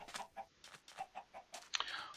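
Hens clucking in a Minecraft farm world, several short clucks in an uneven rhythm that end in a louder squawk, close and fairly quiet.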